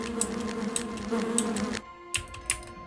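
Insects buzz in the Lands of Lore DOS game, a tonal humming drone that cuts off partway through, broken by sharp clicky taps like keys being pressed.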